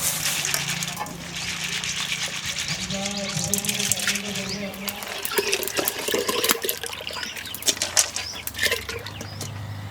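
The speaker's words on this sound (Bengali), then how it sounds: "ডালগুলো এখন ধুয়ে দিয়ে দেবো" Lentils (dal) being washed in water for khichuri: continuous splashing and swishing with running-tap hiss, occasional sharp drips and clatters, close and steady throughout.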